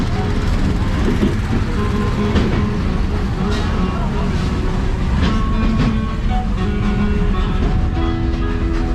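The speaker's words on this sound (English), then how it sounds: "As we approach the train crossing, Theo and I" Silverwood amusement park train ride rumbles along with a continuous loud rolling drone and rhythmic clacks, with faint voices murmuring under the noise.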